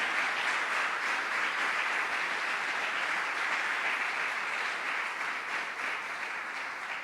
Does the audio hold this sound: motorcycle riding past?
no